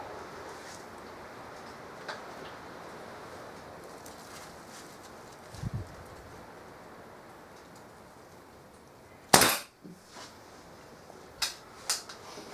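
A Kral NP02 air rifle loaded with JSB pellets fires once outdoors in strong wind, giving a single sharp crack. Fainter clicks follow against a quiet, rustling background.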